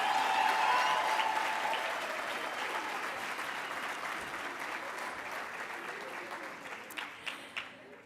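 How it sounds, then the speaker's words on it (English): A large audience at a formal lecture event applauds in a long, dense burst that starts loud and gradually thins, with a few louder individual claps near the end and no talk over it. "a final round of applause"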